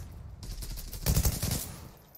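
Rapid gunfire bursts in the online shooter Zula, a tight cluster of loud shots in the middle with scattered reports before and after, no talking.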